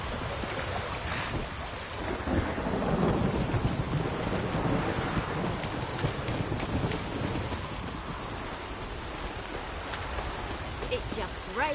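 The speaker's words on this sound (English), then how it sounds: "It just rains and rains." Steady rain falls with a low rumble of thunder in a Witcher video game, a continuous hiss that swells slightly in the middle, with occasional faint speech over it.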